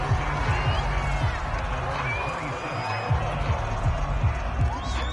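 Stadium crowd in a Madden football video game, a steady broad roar of cheering fans with a low rhythmic thumping underneath, continuous and fairly loud throughout.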